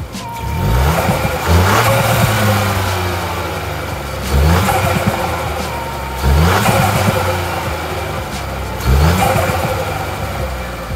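A 2020 Ford Fiesta ST Mk8 turbocharged engine revs up repeatedly in four rising bursts, each easing off between pulls, close and loud with a throaty note and intake whoosh.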